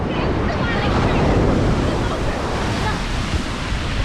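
Surf crashes in a loud, continuous roar of breaking ocean waves on Mararikulam beach, heavy wind buffeting the microphone, with voices faintly under the wash.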